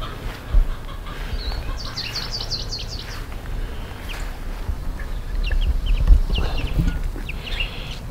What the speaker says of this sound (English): The meat birds are all out.